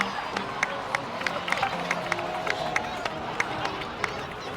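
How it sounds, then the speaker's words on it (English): In the Genshin Impact video game, a crowd breaks into applause and cheering, a steady dense wash of clapping and voices with scattered sharper claps throughout. "please give another round of applause for them"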